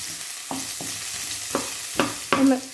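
Sliced onion and garlic cloves frying in a pan with mustard seeds, a continuous sizzle broken by five or six sharp spatula scrapes and stirs that grow louder toward the end, no voices.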